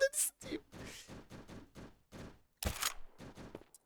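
Gunfire in the game Streamer Life Simulator 2 comes as a quiet run of repeated sharp bursts at a fairly regular pace, with a louder crack partway through and short gaps between shots.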